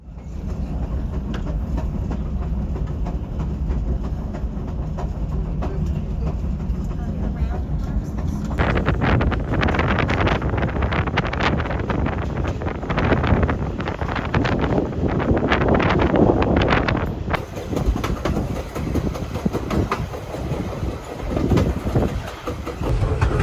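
A Grand Canyon Railway train rolls toward Williams, Arizona, with a steady rumble, rhythmic wheel clatter on the rails and gusty wind buffeting the microphone throughout.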